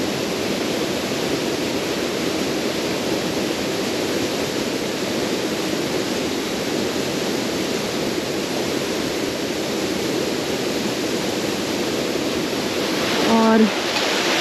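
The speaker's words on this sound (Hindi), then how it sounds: "यहाँ से ये पानी जा रहा है नीचे" Water flowing downhill beside the Kargah Buddha rock carving, a steady broadband rush that holds constant and fairly near throughout, with a brief faint tonal blip near the end.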